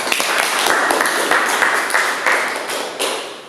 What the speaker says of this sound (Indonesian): tepuk tangan Pak.